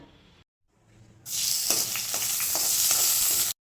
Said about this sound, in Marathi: तांदूळ भिजवलेलं थोडंसं तुपात आहे ना भाजून घेते